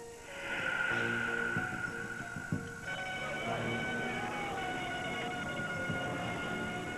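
An ambulance siren wails steadily in the distance at Kuta Beach, Bali, its rising and falling tone carrying over a busy background of traffic and ambient noise.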